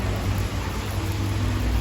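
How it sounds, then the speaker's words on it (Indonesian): Steady rain falls in a dense, even hiss that stays constant throughout, with a low background rumble beneath it and no clear individual drops. "suasana masih hujan"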